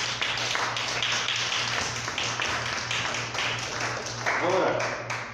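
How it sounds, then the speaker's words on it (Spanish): A church congregation claps together in a steady run of overlapping hand claps, moderately loud and sustained, with a voice speaking briefly over the applause. "Dale un aplauso al Señor."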